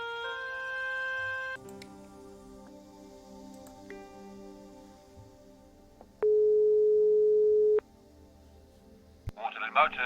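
Phone call tones sound in the Broken Sword 5 video game: a sequence of steady electronic tones and short beeps, one louder sustained tone near the end, and a brief clatter as it finishes.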